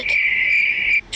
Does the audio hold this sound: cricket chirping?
yes